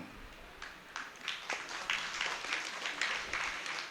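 Faint, distant applause from a crowd, a steady patter of many hands clapping, quiet and continuous.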